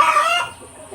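A sick chicken with a cold gives a short, close cluck that fades within half a second.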